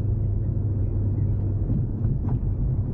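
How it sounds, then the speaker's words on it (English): Steady low road traffic rumble near a large shopping mall in Setia City, continuous and even with no distinct horns or passes. "I want to travel a little bit faster, but look at the traffic."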